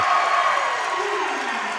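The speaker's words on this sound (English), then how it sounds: "the crowd's alive now" Basketball crowd at a girls' high school playoff quarterfinal cheers after a made three-pointer, a dense, steady roar of voices and whoops filling the gym, with a commentator's voice running over it.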